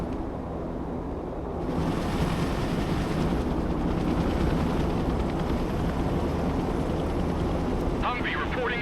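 A recon helicopter in the video game Broken Arrow gives a steady rotor whirr and wind-like rush that holds at a constant level, with game voices and radio chatter over it.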